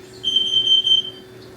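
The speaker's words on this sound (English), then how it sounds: "Testing the carbon monoxide sensor." A carbon monoxide alarm under test sounds a single sustained high-pitched electronic tone, holding steady for about a second over a low steady hum, then stops.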